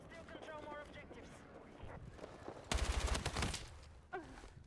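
Burst of rapid gunfire from a Battlefield 6 firefight, a dense cluster of loud close shots following radio-style game voice chatter, with a brief sharp sound trailing after.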